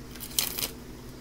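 A brief, faint papery riffle of playing cards being shuffled for a tarot-style reading, a quick crisp burst lasting well under a second in a quiet room.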